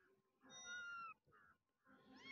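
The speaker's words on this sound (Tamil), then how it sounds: "ஐயோ, பூனை அழுவ ஆரம்பிச்சிருச்சு." A cat crying in the mobile game Cats Are Liquid, two or three close, clear, plaintive meows with short gaps between them, and no talking.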